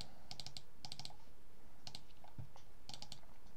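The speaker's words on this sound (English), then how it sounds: "So I randomly click on" Quiet, close clicking of a computer mouse while working in Krita, coming in small clusters of quick clicks with short pauses between them over a faint steady hiss.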